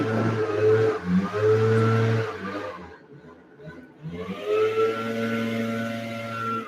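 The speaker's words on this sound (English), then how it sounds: "A lawn blower." A leaf blower running outside, heard as a steady droning whine with harmonic tones that dips briefly midway, then swells back to a continuous roar in the background.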